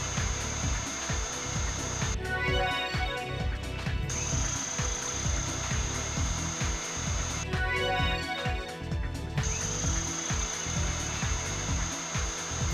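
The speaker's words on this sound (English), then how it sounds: "Now use the drill." A surgical drill in a video game whirs continuously with a high steady whine, broken twice by short bursts of grinding and rattling.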